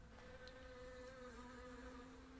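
Steady, continuous buzzing of bees in a LEGO video game: a droning insect hum with sustained tonal layers that stays constant and fairly loud for the whole stretch, with no voices over it.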